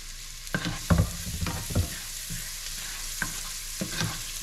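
Garlic frying in a pan for a coconut-milk shrimp and mussel dish, with a continuous hiss of oil and several irregular clanks and scrapes of a spatula stirring close by.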